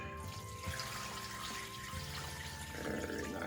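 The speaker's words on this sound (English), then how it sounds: "Pour the brine over it." Brine is poured over raw chicken in a home kitchen, a steady splashing pour of liquid under quiet background music.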